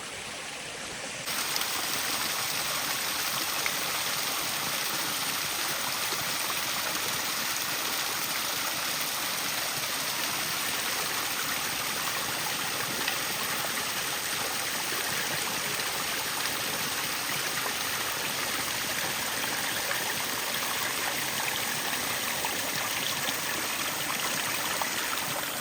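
Water diverted through a channel pours steadily into a pond, a dense continuous rushing and gurgling that stays even and fairly loud throughout, with no talk.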